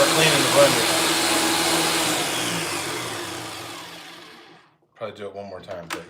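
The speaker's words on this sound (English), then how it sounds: "That's how we're cleaning the blender." A kitchen blender runs loud and whirring as it cleans out leftover Hollandaise sauce, then winds down and stops, after which a person starts talking.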